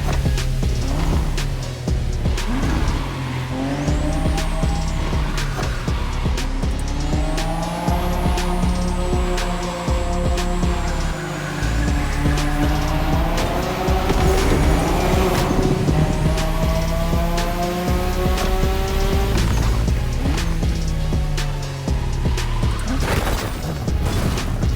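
A racing car in a video game drifts through corners, its engine revving up and down loudly and continuously while tires squeal through repeated slides, close and alone for the whole stretch.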